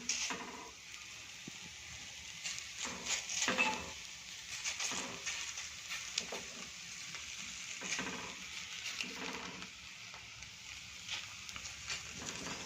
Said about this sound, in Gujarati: નીચેની સાઈડ પરાઠો આપણો થોડું શેકાય પછી એને આપણે પલટાવી દઈશું